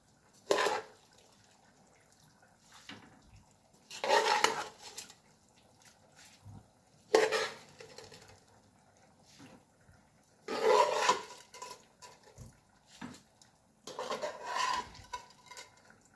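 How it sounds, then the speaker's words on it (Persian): Rice being added to a pot while cooking biryani, heard as five separate bursts of rattling, scraping grains and pot clatter spaced a few seconds apart, with quiet gaps between. "برنج را اضافه کنیم."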